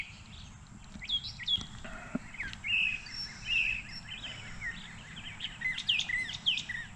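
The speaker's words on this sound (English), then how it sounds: "Listen to the birds" Several birds sing and chirp outdoors, bright repeated whistles and trills over a low steady background rumble, with no talking.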